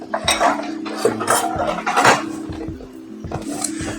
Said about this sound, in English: we'll start to mix it all together